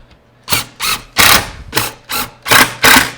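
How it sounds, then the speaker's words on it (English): A power driver drives pocket screws into pre-drilled pockets on a simple wooden bench: seven short, evenly spaced whirring bursts, close and fairly loud, each lasting about a quarter second. "now we'll go around and we'll put pocket screws in all of the pockets that we've already drilled."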